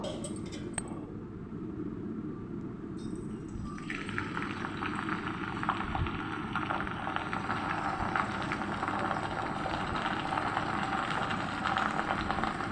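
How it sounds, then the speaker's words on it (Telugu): Gongura leaves fry in a few spoonfuls of oil for an Andhra gongura pickle, giving a steady close sizzle that swells into a dense, even hiss after a few seconds and keeps going. "గోంగూరని 3 స్పూన్లు ఆయిల్ వేసుకుని వేయించుకోవాలండి"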